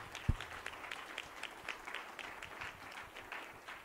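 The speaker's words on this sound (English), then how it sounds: "So give yourselves a round of applause" Faint, distant applause from a crowd of campaign supporters at a Democratic election-night speech, scattered claps forming a thin, steady patter at low volume.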